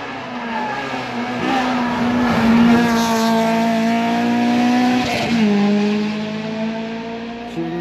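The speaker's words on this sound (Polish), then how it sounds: "Ta piękna, piękny Ford Sierra Cosworth wzorowany na barwach Mariana Bublewicza" A Ford Sierra Cosworth rally car in a tarmac rally stage passes at speed, its engine note rising loud and close then dropping in pitch as it goes by, with a brief tyre squeal and no voices.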